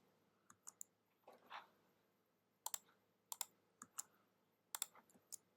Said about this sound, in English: Clicking on it and hitting the delete key